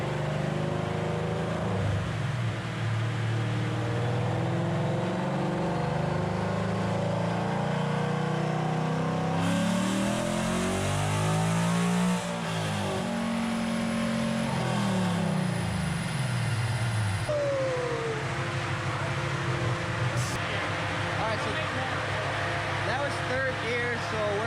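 A 2020 Chevrolet Corvette C8 on a dyno, its engine droning loud and steady as it sweeps up and down through long revving pulls, with a voice speaking over it.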